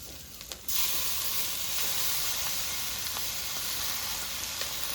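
Jute leaves hit a pan of fried onion and chili, bursting into a sudden loud hiss that settles into a steady, close, continuous sizzle with faint stirring crackles and no talking.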